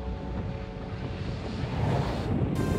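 Strong wind roars and rough seas wash around a racing yacht far south of Australia, a dense, steady rush of wind noise and surf building slightly toward the end.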